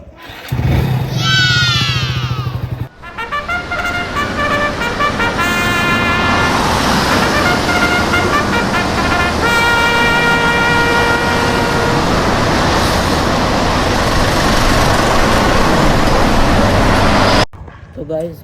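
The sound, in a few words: motorcycle started and ridden in traffic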